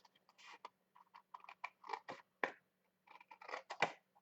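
Scissors snipping out a piece of paper card for a handmade thank-you card, a run of short, close, crisp cuts in quick uneven bursts with brief pauses, no talking.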